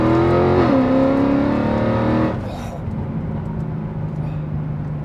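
A catless Mercedes CLK63 Black Series V8 roars loudly up through the revs, shifts, then settles into a deep, steady exhaust drone, heard close from inside the car.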